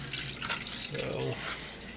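Water draining from a 50 quart mash tun, a steady trickling and splashing flow heard close up, with a voice talking over it.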